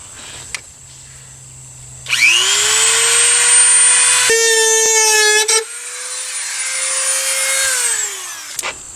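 A power tool bites into the plastic edge of a Jeep Wrangler tube fender flare mounting hole, a loud whining cut that rises in pitch, pauses and resumes for several seconds before spinning down, recorded close.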